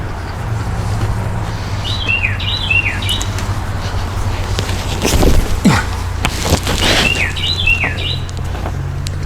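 Birds chirp outdoors in two short bursts of quick, rising calls, moderately distant, over a steady low hum of background noise.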